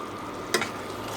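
Dried fish and onion fry in hot oil, a close, steady sizzling hiss with one brief tick partway through.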